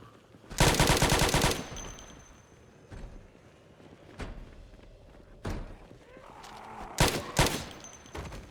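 Gunfire in Project Zomboid: a loud, dense opening burst of shots, then several sharp single reports spaced irregularly over a quiet background, with a close pair of shots near the end.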